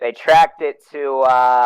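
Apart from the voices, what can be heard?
No everyday noises stand out.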